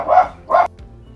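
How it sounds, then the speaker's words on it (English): Dogs bark outside: two sharp, loud barks in quick succession, followed by a brief quieter sound and low background noise. "my dogs were making a ruckus outside"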